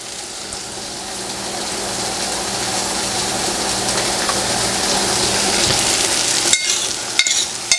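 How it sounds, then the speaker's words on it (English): Blueberries with a pinch of salt cook down into compote in a pan, giving a steady, close bubbling sizzle that grows slightly louder, with a few sharp clicks near the end. "The blueberries are cooking now."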